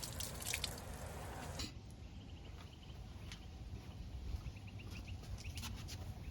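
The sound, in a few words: hose shower spray dripping on pool cover, simulated rain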